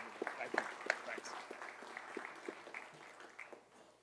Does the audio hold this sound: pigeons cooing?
no